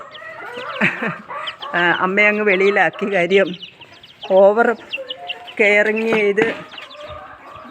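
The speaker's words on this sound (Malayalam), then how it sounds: "6 പേര്, 6 നാടൻ കോഴികളാണിത്." Six native hens clucking and making short calls close by, with a person speaking between and over the bird sounds.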